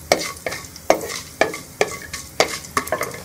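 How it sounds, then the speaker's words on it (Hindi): Fenugreek seeds roasting in oil over low heat, with a steady sizzle and regular scraping strokes of a spoon stirring the pan, close and clear with no talking. "ये मेथी दाना डाल के हम एक मिनट के लिए इसे भून लेंगे।"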